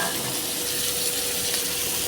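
Chopped onion sizzles steadily in hot oil over whole spices such as bay leaf, cardamom, cinnamon, cumin and dried chilli, a dense, continuous frying hiss with no voices.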